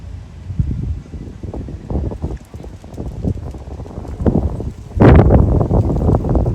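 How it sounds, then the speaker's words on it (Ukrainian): Gusty wind on a riverside embankment in Dnipro buffets the microphone in low rumbling bursts, swelling louder toward the end, with faint rustling underneath. "Тільки вітер."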